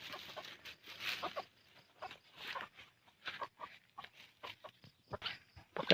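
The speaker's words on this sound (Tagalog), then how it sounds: "Ayan po, nandito na po yung alaga natin ng mga manok." Chickens being fed cluck and scratch nearby in a rapid, irregular stream of faint soft pecks and clucks, with no talk.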